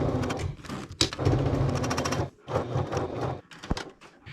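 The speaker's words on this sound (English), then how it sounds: "we're going to go to the sewing machine next, and we are going to top stitch the bottom edge of our zipper box" A sewing machine top stitches the bottom edge of a backpack zipper box, running in loud rapid bursts that break off into short pauses before starting again.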